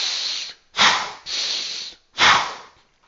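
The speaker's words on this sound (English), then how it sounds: "your 2-1 is going to sound like this." Rhythmic running breathing in a 2-1 pattern is demonstrated alone: a long hissing inhale followed by a shorter forceful exhale, repeated twice, close and clear with no talk.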